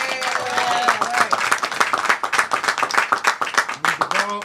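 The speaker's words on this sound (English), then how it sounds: "Can we please give them a round of applause?" Crowd applause at a bill-signing ceremony for a hair discrimination ban, many hands clapping loudly and densely, with brief voices rising near the end.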